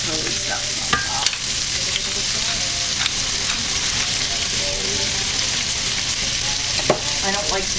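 Shrimp, salmon and bacon cooking in a creamy sauce in a pan, a steady crackling sizzle with occasional utensil clicks and stirring, close and sustained throughout.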